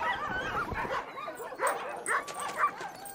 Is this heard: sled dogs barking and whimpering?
yes